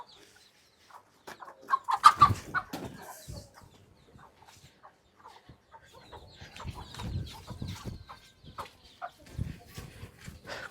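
Chickens cluck in scattered bursts, some nearby and some farther off, with quiet pauses between the busier stretches of clucking.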